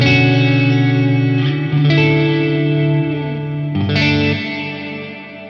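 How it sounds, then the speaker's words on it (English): Electric guitar played through an MXR Reverb pedal, sustained chords with a wash of reverb blooming behind them, restruck twice and left to ring out and fade slowly, loud and alone. "Another lovely reverb there."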